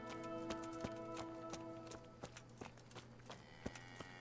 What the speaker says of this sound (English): Ooh, there's a horse outside.